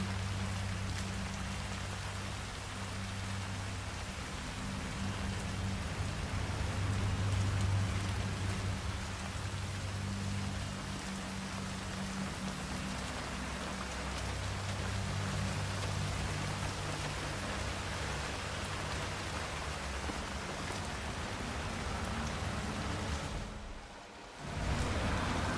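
Steady rainfall in the Chongqing level of Hitman 3 pours down as a dense, continuous hiss with a low ambient rumble beneath it, briefly dropping away near the end before returning.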